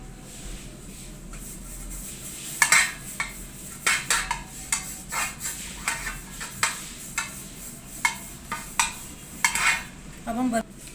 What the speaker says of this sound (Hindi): अब हम पैन को ग्रीस कर लेंगे।